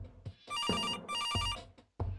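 A telephone rings in the video game Kathy Rain, two long electronic bell bursts of trilling tones with a short gap between, loud and close, with brief low sounds at the start and end.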